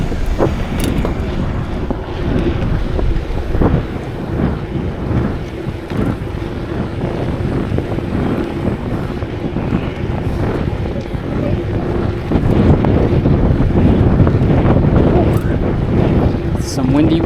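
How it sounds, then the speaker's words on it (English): Strong wind buffets a rider's microphone on the ride home, a loud, constant rumbling roar up close that swells louder toward the end. "Some windy wind now coming home."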